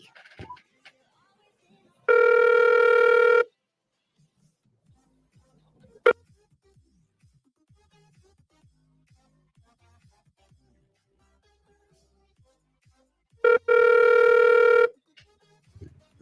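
A telephone call plays two ringback tones about ten seconds apart, each a buzzy, slightly over one-second burst, with near-silence and faint ticks between them.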